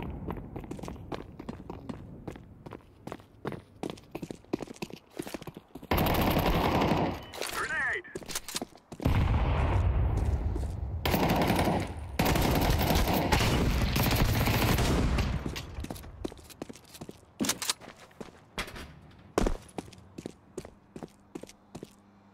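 Shotgun blasts and other gunfire in Counter-Strike 2 come in heavy clustered bursts, loud and close, mixed with rapid footsteps running between the volleys.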